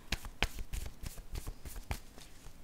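Cards are drawn by hand from a spread-out deck: a quick series of soft, close flicks and slides of card stock, irregular and fairly quiet, with one sharper snap early on.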